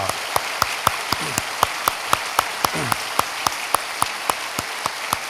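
A church congregation welcomes visiting guests with steady, rhythmic clapping, sharp claps landing in even time about four per second, fairly close and clear over a soft room background.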